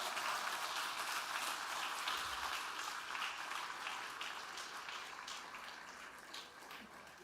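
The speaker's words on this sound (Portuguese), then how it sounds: "Vamos aplaudir ao Senhor" A church congregation stands and applauds in a sustained, dense wash of clapping that stays fairly distant and gradually fades.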